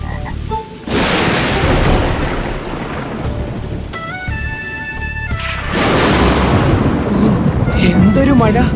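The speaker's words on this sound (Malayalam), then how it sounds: "എന്തൊരു മഴ!" Heavy downpour with thunder in an animated Malayalam film, a dense roaring rain wash with rumbling crashes and musical tones weaving through, loud and continuous.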